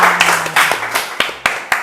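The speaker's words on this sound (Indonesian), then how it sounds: "tepuk tangan dong untuk Anjar" Hands clapping for a guest on an Indonesian talk show, a small group applauding near the microphone with loud, distinct individual claps in an uneven rhythm over a soft background murmur.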